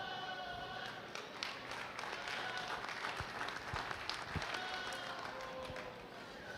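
Applause from the crowd at a meat goat show, steady dense clapping that carries through the whole stretch at an even, moderately loud level, with a few sharper claps standing out.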